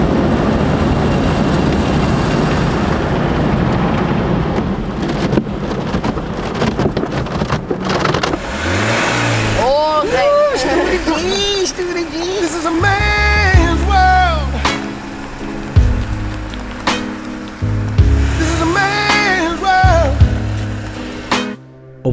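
A car wash drying a BMW 1 Series: a loud rushing blower roar fills the first half, then gives way to machinery rumble and changing tonal whines as the drying equipment moves over the car.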